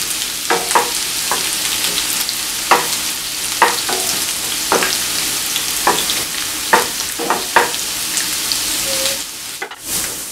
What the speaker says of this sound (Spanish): Y vamos a agregar la cebolla. La dejamos que se fría un poco.